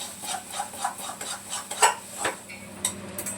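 A metal utensil scrapes repeatedly across the bottom of a kadhai while frying urad dal vadas, several rough strokes in an uneven rhythm, close up and with no talking.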